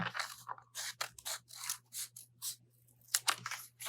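Scissors snip through paper while a heart shape is cut out, a run of close, crisp cuts in uneven bursts with short pauses between, quiet and alone under a faint steady hum.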